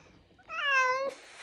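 A cat gives one clear, drawn-out meow, close by and alone against a quiet background.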